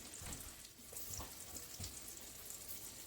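Sausage for a Thanksgiving dressing cooking in a pan, a faint low sizzle and crackle with a few soft scrapes and knocks, quiet and close with no talking.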